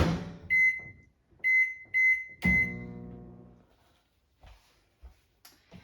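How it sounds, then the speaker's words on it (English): A microwave oven heating asparagus beeps in sharp bursts, then a louder beep with a thud as the door opens, followed by faint clatter in a quiet kitchen. "stick this in the microwave while I'm talking."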